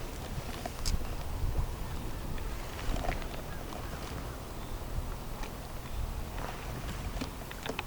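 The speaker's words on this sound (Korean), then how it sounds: "바람이 불기 시작하네요" Wind blows steadily at an outdoor fishing spot on a hot summer day, a continuous broad rushing noise with a few faint knocks and rustles, and no voice over it.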